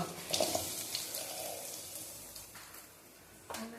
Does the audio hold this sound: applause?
no